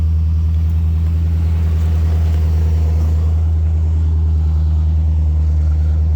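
A 1984 Corvette Z51 V8 with FiTech fuel injection idles on a cold start, a deep, steady rumble continuing loudly, an even low throb with no change in pace.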